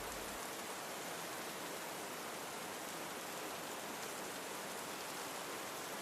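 Rain falls steadily outside a cabin, a dense, even wash of hiss with no breaks or voices, constant and close throughout.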